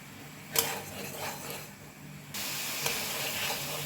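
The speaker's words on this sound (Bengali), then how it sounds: "তেল ওঠা অবধি মশলাটাকে কষাবো।" Masala spice paste being fried in oil, a soft continuous hiss and sizzle with a couple of brief sharp spits, close and fairly quiet.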